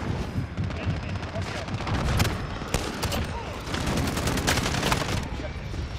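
Rapid bursts of Holger-26 light machine gun fire crackle through a Modern Warfare match, with sharp repeated shots and booms layered over the game's background noise.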